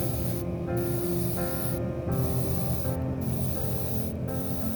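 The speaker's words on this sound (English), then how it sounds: "I'm priming each part with gray for being able to see any imperfections, problems." Airbrush or spray can misting gray surfacer primer onto small plastic parts of a Mercedes W204 C63 AMG scale model, a steady close hiss broken by four short pauses.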